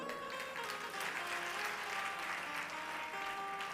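A live devotional gathering's audience claps steadily throughout, a dense, continuous wash of applause with a faint sustained musical tone underneath.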